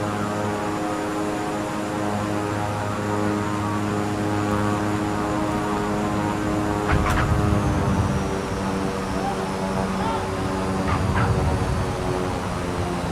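A LEGO Galaxy Explorer spacecraft landing and braking in a flight simulator, a steady droning propeller-like engine hum with a couple of louder rumbling bumps, no talk.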